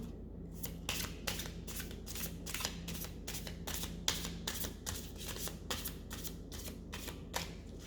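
A deck of cards is shuffled repeatedly, crisp riffling bursts at a steady rhythm, close by, with no talking.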